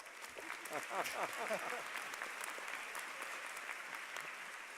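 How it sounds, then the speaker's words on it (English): Audience clapping at a university graduate commencement ceremony, a dense burst of applause in a large hall that holds steady and then tapers slightly. "Give him a round of applause."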